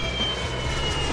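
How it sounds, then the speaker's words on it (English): Steady roar of a jet airplane engine, broad and continuous with a high whine on top, loud and unbroken throughout. "Airplane."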